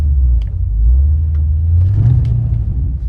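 A Cadillac CTS-V engine revs while the car is stuck in snow: a close, loud, continuous low rumble that swells and climbs in pitch around the middle, with no talking.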